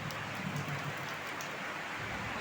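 Heavy tropical rain pours steadily during a thunderstorm onto a leaking tiled house roof, a dense continuous hiss heard fairly faintly from indoors with no talking.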